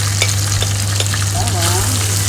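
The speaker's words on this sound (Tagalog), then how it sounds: "Ngayon, igigisa natin. Lalagay ko yung bawang." Garlic dropped into hot oil for a chicken curry sizzles loudly and steadily up close, with soft stirring clinks and scrapes scattered through the short burst.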